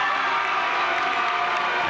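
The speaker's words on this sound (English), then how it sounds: "As you hear the introduction and the applause for the Piscataway Chiefs." A high school basketball crowd in a gym cheers and applauds through team introductions, a continuous loud wash of clapping and shouting with no break.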